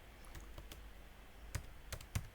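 Quiet, scattered key presses on a computer keyboard, a few soft clicks with two sharper taps near the end, close and faint against low background hiss.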